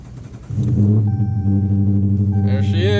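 A Dodge Charger R/T engine starts after a low idle-like rumble, catching with a surge into a deep, steady, loud rumble close by, with a high whine and faint higher noise near the end.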